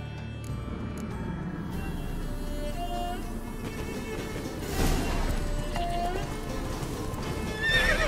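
A horse in The Witcher 3: Blood and Wine gallops with steady clip-clop hoofbeats and gives clear neighs and whinnies during a chase, set against a background music bed.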